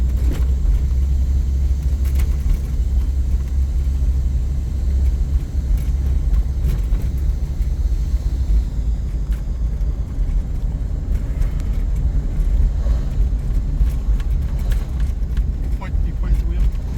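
A 1998 GMC Safari van drives along, its steady low engine and road rumble filling the cabin at a constant, fairly loud level throughout.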